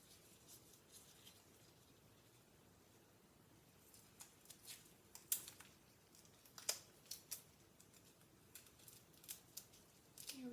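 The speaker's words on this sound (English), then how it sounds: "I will take a small piece of tape." A small piece of tape is cut by hand in a quiet medical simulation room, giving a few faint, close snips and crinkles that come in irregular clusters over low background hiss.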